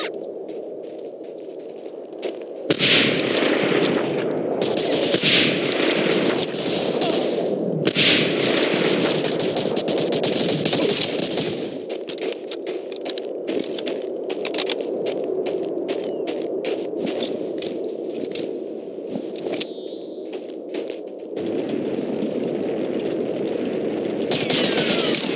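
Sustained gunfire in the World War II shooter Medal of Honor: Allied Assault during a Norway mission, long rapid automatic bursts and scattered sharp shots crackling loudly nearly throughout, with brief pauses between volleys.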